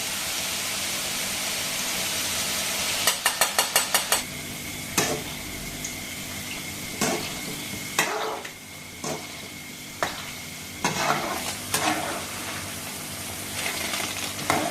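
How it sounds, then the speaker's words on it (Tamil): Boondi drops fry in hot oil, giving a soft, continuous sizzle with crackling bursts and light tapping as batter is knocked through a ladle into the pan, with no talk. "நல்ல சலசலன்னு சத்தம் கேட்குது."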